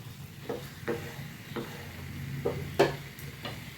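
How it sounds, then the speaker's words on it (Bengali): Chicken cooking in spice masala in a pan, with a soft, low sizzle broken by several distinct stirring scrapes and utensil knocks spaced about a second apart, fairly quiet and without talk. "এবারে আমি চিকেনটাকে দিয়ে দেবো, দিয়ে ঢাকা দেবো।"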